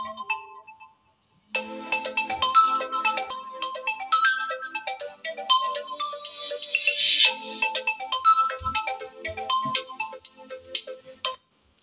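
A smartphone ringtone plays steadily for about ten seconds after a short spoken voice command, a bright melodic ring that is clear and close, with no talking over it.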